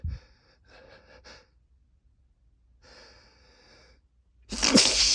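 A sneeze bursts out loud and close at the end, preceded by several quiet breathy gasps and tickled inhalations as it builds.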